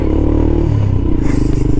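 Royal Enfield Himalayan motorcycle fitted with YSS suspension being ridden, a steady loud engine drone with a slight pitch shift, heard close up with wind and rumble.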